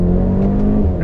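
A 2021 Mercedes-AMG GLB 35 pulls hard on throttle, its engine droning loud and steady with a strong low growl that holds through the whole moment, heard from inside the cabin.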